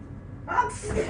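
A single sharp human sneeze bursts out, preceded by a short inhale and followed by a breathy tail, close and fairly loud against a quiet room.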